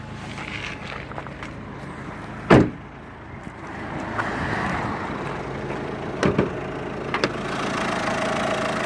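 A 1.6-liter turbo diesel inline four-cylinder car engine idles steadily at a low, even rumble, with a couple of sharp clunks, like a door or switch, breaking through near the start and again toward the end.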